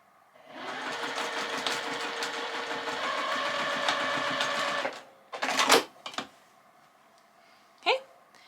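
A sewing machine stitches a seam on a cozy picnic quilt block, running steadily for about four seconds, then a few short bursts and clicks follow as the machine stops and the fabric is handled.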